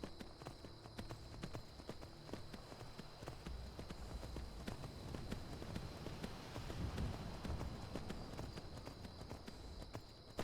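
Steady clip-clop of horse hooves at a trot in the video game Skyrim, continuous and fairly close, with a faint background hum throughout.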